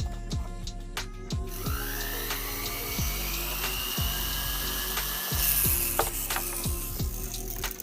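Grinding or sharpening a jewelry-making tool on a powered rotary tool, a steady high whine with repeated short bursts and pitch drops as the tool is pressed to the workpiece, close and loud.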